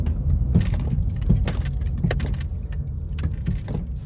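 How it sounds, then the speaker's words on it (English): A Honda Civic with fresh brake work and a possible bad lower control arm gives off repeated metallic clinks and clunks while braking, irregular knocks over steady low road rumble, no talking. "Let's hit them brakes."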